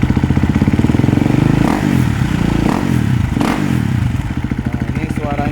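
A 2017 Husqvarna FE 350 motorcycle engine revs loud and close with a rough, rapid thumping beat that surges and dips. A voice can be heard faintly under the engine noise.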